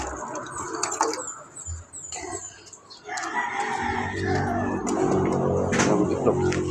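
Chickens cluck and squawk nearby, with a rooster-like call, while a person talks over the birds in a busy outdoor setting.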